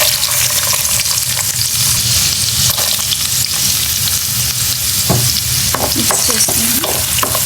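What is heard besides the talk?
onions frying in a pan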